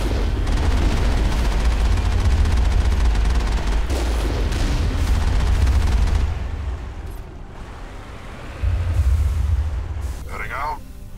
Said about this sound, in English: Whoa, what's shooting at us?